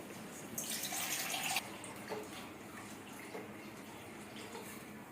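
A brief splashing pour of water from a bowl into a pot lasting about a second, followed by a soft, steady watery background with faint drips.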